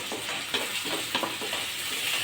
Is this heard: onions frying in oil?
yes